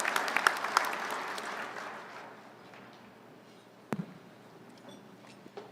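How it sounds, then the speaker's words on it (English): Audience applause at a Coast Guard awards luncheon, a dense round of clapping that is loudest at the start, then thins and fades away within about two seconds, followed by a quiet room with a couple of faint knocks. "let's just give our awardees one more round of applause for their contributions"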